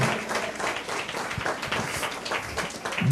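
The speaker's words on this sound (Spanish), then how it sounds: "Dale un aplauso al Señor" A church congregation claps together in praise during a service, a fairly loud, steady patter of many hands filling the room without pause.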